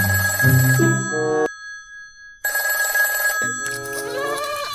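A telephone ringtone plays loudly in a melodic electronic pattern, stopping for about a second of silence before ringing again in the same bright, tonal sequence.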